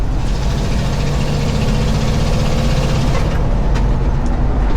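A heavy engine idles nearby with a loud, steady, rough rumble and no talking.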